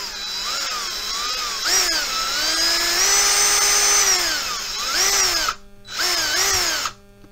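A handheld cordless battery drill spins up close and loud, its whine rising and falling steadily for several seconds, cutting out briefly, then running again before stopping, used to trim cartridge cases to length.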